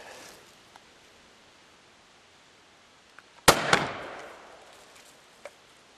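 An airsoft PMOG grenade shell charged with powder goes off in one sharp bang at a moderate distance, followed by a brief crackling tail, against a quiet outdoor background.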